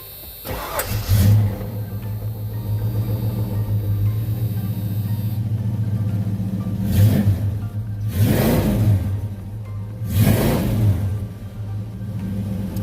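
A 1986 Ford Mustang LX Fox Body with a new high-torque mini starter cranks briefly and catches, then settles into a steady, close idle rumble, with several loud revs rising near the end.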